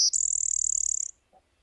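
A played recording of a warbler or vireo song gives a rapid, high, buzzy trill of many quick repeated notes for about a second, then stops, leaving quiet with a faint brief sound.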